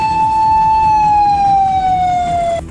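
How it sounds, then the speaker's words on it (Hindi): A loud wailing ambulance siren near a factory fire holds a steady, slowly falling tone close by, with low traffic rumble underneath, then cuts off abruptly. "इलाके में जगह जगह एम्बुलेंस के सायरन की आवाज सुनाई देने लगी"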